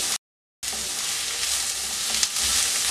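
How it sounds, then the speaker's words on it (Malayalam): Sliced onions sauté in a hot pan for a vegetable curry with a steady, bright sizzle, broken by a short silent gap near the start. "സവോള നല്ലതുപോലെ ഒന്ന് വഴറ്റിയെടുക്കണം."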